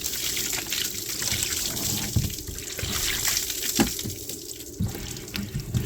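Water runs steadily from a tap to rinse a cleaning product off a surface being restored, a close, rushing splash that fluctuates as it hits and drains, with no talking over it.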